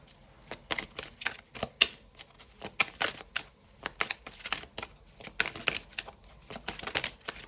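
Tarot cards being handled, shuffled and drawn one after another, giving close, quiet crisp flicks and papery snaps in an irregular run, with no talking.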